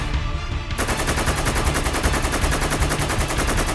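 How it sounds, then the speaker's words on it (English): An Orc tank turret fires a hailstorm of rapid gunfire into a Land Raider, a loud, dense, unbroken machine-gun burst that starts abruptly and keeps hammering without pause. "the Orc tank turret turns again and unleashes a hailstorm of gunfire into the Land Raider"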